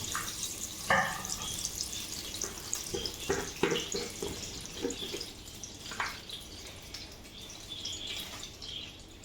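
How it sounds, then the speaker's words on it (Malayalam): Mustard seeds splutter in hot oil, sporadic sharp pops and crackles scattered over a low background hiss. "എണ്ണ ചൂടായി, കടുകിട്ടു."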